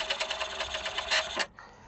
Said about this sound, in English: pulling the paper back to print on the second side